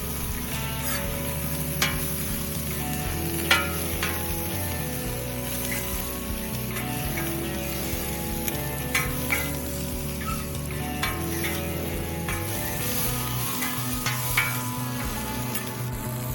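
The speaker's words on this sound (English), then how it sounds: "Add some greens on the onion and keep frying." Onion and greens sizzle steadily as they fry on a hot griddle, with occasional sharp scrapes and clinks of a utensil stirring throughout.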